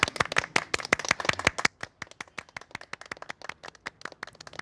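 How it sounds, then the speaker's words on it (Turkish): A group of people claps hands together at a meat dinner gathering, loud rhythmic unison claps at first, then breaking into looser, scattered clapping that continues to the end. "Alkış, alkışlıyoruz."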